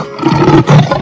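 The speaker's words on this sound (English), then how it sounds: "Lion." A lion roars loudly and close by in two strong bursts separated by a short gap, the sound deep and throaty with no other noise around it.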